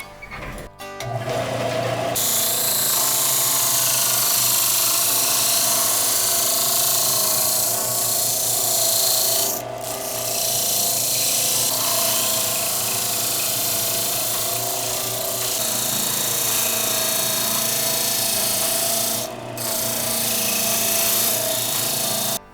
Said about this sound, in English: Time to go back to the belt sander.